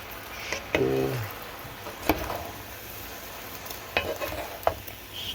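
Onion and seasonings being stirred through a simmering tomato sauce in a pan: a soft steady sizzle with a few distinct scraping stirs of a utensil, close and fairly quiet, no talking.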